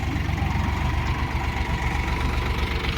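A tractor engine idles steadily on a farm, a continuous low rumble with a rhythmic throb, close and loud, with no pauses.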